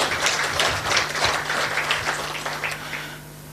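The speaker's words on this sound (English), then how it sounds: "A clap for her." An audience at a public political gathering applauds a government official's speech with a dense, sustained patter of many hands clapping, moderately distant, tapering off toward the end.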